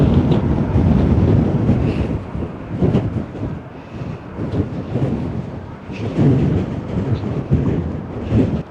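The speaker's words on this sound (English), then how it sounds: "the wind's not too bad when you got it blocked" Strong gusting wind buffets a handheld microphone outdoors at an open desert site near Wupatki's Citadel, a loud, continuous roar that surges and eases in waves.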